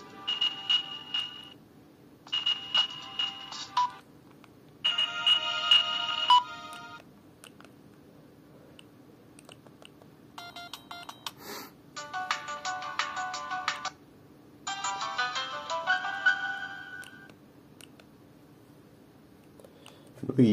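A Siemens C72 mobile phone plays a series of short theme ringtones, bright electronic melodies of a few seconds each separated by brief pauses, over a faint steady hum.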